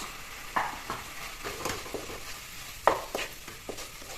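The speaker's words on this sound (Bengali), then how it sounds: "এইখিনি মই অলপ ভাজি ল'ম" Turmeric, salt, coriander and cumin powder fry with soft tomatoes in a pan, giving a quiet, steady sizzle broken by a few sharper scrapes and clinks of a spoon stirring.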